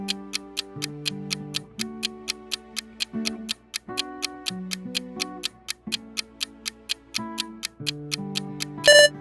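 A countdown clock ticks in a steady, even rhythm over soft tonal musical notes for a quiz timer, ending with a brief bright chime.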